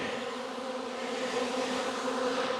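Honey bees at a hive give off a steady, close, dense buzzing hum as they march into a new box set behind the original one, continuous and unbroken with no voices.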